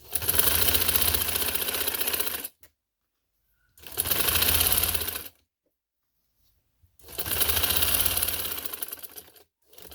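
A sewing machine stitches along the inner fold of fabric for a V-neck design. It runs in three rapid, buzzing bursts of stitching with short silent pauses between them, close and clear with no voices.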